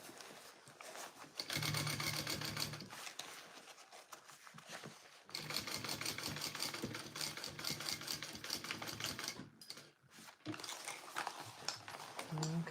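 A sewing machine runs in steady rapid stitching bursts while a sling is sewn, pausing briefly in between, with faint room noise underneath.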